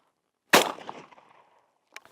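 A single close, sharp shotgun blast from a full-power Aguila shell, fired at the Sig Sauer Academy, with a short decaying echo, followed by a couple of faint clicks.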